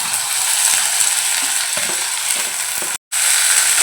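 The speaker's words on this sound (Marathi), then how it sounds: "त्यामध्ये आता आपण वाल घालून घेऊया" Peeled val (field) beans hit browned onion in a pan for a Malvani-style birda, setting off a loud, steady sizzle with light scraping stirs, broken by one short silent gap near the end.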